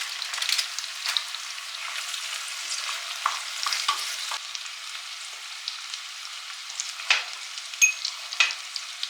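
Caramelized onion and squash fry in a pan, a thin bright sizzle with intermittent scrapes and taps from stirring, moderately close and without talk.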